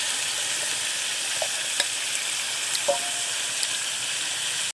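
Potatoes and ivy gourd fry in a pan with a steady bright sizzle, punctuated by a few sharp clicks and scrapes of a utensil, close by.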